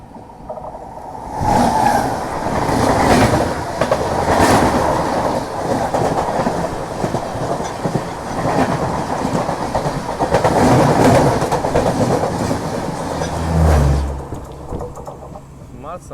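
Another train passes on the Kerala coastal line, heard from aboard the Mangaluru–Nagercoil Amrit Bharat Express: a loud, steady rush with rhythmic wheel clatter that lasts throughout.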